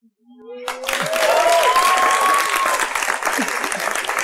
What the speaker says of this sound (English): I don't like it when you clap for guests after everything they say.